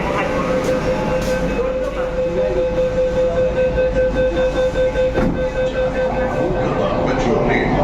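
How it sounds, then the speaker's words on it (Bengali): Kolkata metro train running toward the tunnel beneath the Hooghly river, a steady loud rumble and rail roar with a sustained tone throughout, as an onboard announcement voice plays over it. "ট্রেন এখন প্রবেশ করতে চলেছে হুগলি নদীর তলদেশে"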